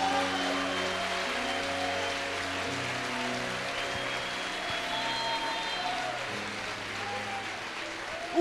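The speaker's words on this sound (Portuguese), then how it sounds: "Então dá uma salva de palmas para o Senhor aí" Church congregation applauding during an evening worship service, a steady wash of clapping that runs evenly through the whole stretch under sustained music tones and some faint voices.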